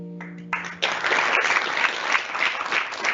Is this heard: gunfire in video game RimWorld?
no